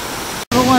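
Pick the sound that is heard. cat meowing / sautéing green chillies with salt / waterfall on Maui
waterfall on Maui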